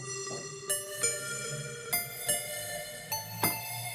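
Korg Drumlogue VPM engine synth layer adding sparkle, heard as bright harmonic tones struck in a sparse rhythm of about seven notes over a steady sustained pad, with no talking.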